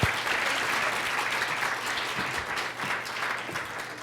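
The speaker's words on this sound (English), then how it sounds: "Let's give her another round of applause." A conference audience claps after a keynote, a full, sustained round of applause from many people that holds steady and eases slightly toward the end, with no voices above it.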